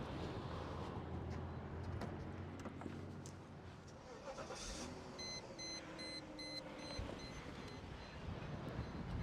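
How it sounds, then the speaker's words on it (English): A 1997 Mercedes-Benz 500SL R129 engine is started and recorded from the engine bay: a steady broadband rumble, with a brief surge mid-clip and then a settling idle, alongside a faint intermittent beeping. "So I'll start it up, and then we can get some sound from the engine bay."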